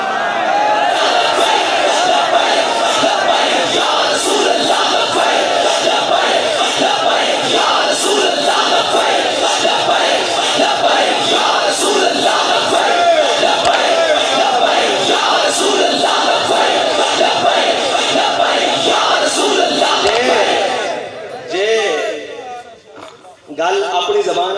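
A large rally crowd chants religious Labbaik slogans in unison, a loud, dense, continuous roar of many voices that holds steady before breaking off and fading near the end.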